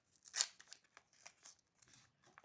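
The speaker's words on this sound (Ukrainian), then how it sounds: "мені прийдеться просто відірвати, щоб відкрити пакетик" A handmade paper surprise packet is torn open by hand, giving a few close, crisp ripping and crinkling bursts, the loudest one near the start, then softer rustles, all fairly quiet.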